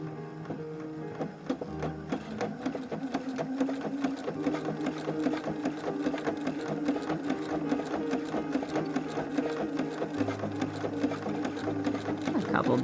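A sewing machine stitches doll-sized leggings with a steady, close mechanical whir and rapid needle chatter that runs continuously, with a slight shift in tone partway through.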